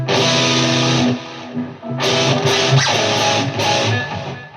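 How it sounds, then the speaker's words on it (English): An electric guitar with distortion rings out a major seventh chord, strummed loud and sustained, then struck again after a brief dip, with a thick fuzzy buzz. "when you start doing like weird, like major 7th chord with distortion on"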